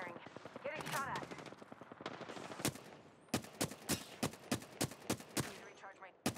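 Gunfire in the battle royale shooter Apex Legends, rapid crackling shots at first, then a steady rhythm of distinct single sharp shots roughly every half second, moderately loud and close.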